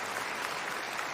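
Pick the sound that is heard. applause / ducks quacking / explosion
applause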